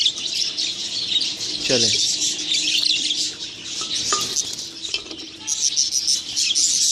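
A colony of budgie parrots keeps up a steady, busy chatter of high chirps and squawks, with someone talking over the birds throughout.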